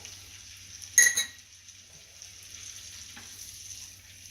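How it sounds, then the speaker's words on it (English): Seafood stock simmers in a pan for a garlic lemon parmesan shrimp dish, giving a soft, steady bubbling sizzle with one brief clatter of a utensil near the start. "Now we're going to let this simmer"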